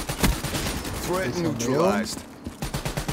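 Gunfire from a slow-firing weapon in Black Ops 3, with spaced shots thudding at an unhurried, steady rhythm under a player's talk.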